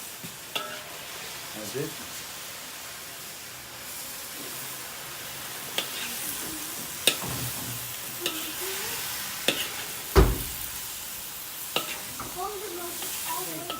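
Spinach hits hot oil in a pan for beef and broccoli and sets off a steady close sizzle, with spatula scrapes and knocks now and then, and a brief spoken remark partway through.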